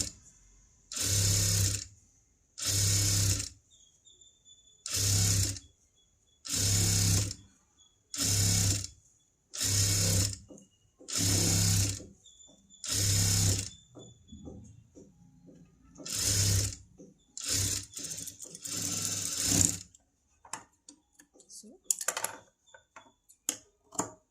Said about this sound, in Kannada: ಸೊ ನಾವಿವಾಗ ಇದರ ಎಡ್ಜಲ್ಲಿ ಸ್ಟಿಚ್ ಮಾಡ್ಕೋಬೇಕು.